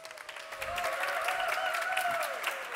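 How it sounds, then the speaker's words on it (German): Audience applause at a live science show presenting science and technology, a dense steady clatter of many hands sustained throughout, with faint voices and a tonal whistle-like line running underneath. "Bitte einen großen Applaus für unser Mathe-Team."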